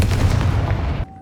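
A booming fiery blast from the Confringo curse spell in Hogwarts Legacy, a loud low-heavy burst lasting about a second before cutting off abruptly.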